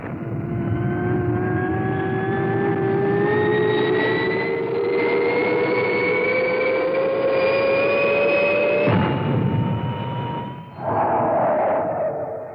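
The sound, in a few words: rocket XL5 taking off, effect in 1962 TV series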